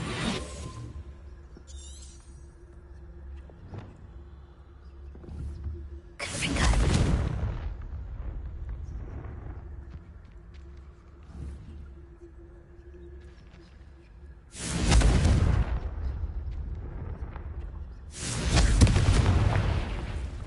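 A fire spell cast in a wizarding video game gives short, loud whooshing bursts with booming low rumble at three points, each fading into a quieter ambient bed of game music and hum.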